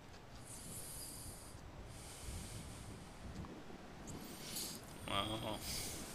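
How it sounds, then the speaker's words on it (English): Wind gusts buffet the microphone outdoors, a steady rumbling roar with a stronger burst near the end. "It's windy as hell out here."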